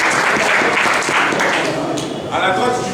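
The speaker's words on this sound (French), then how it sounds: "Je vous demande aussi d'acclamer." Sustained applause and cheering from a crowd welcoming a student coordination minister at a university gathering in Kinshasa, loud and dense throughout, with voices mixed into the clapping.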